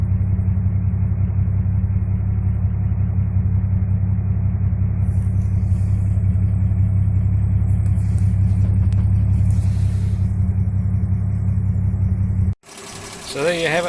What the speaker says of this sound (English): this is what the exhaust sounds like when it's firing on all cylinders